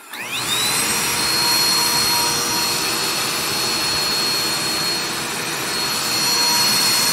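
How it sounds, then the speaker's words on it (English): A Dirt Devil vacuum cleaner runs continuously in a cabin, powered from a portable power station, producing a steady loud whine and whoosh from start-up through the whole stretch without talk. "And this is my Dirt Devil vacuum"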